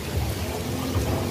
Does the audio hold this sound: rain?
yes